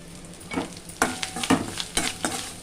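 Grated coconut roasting in a pan for dal payasam gives a soft sizzle broken by repeated scraping strokes of a spatula, each stir a distinct swish at an irregular beat. It is close and has no voices.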